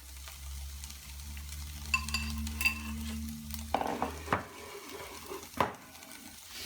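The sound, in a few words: mixing seasoned chicken with egg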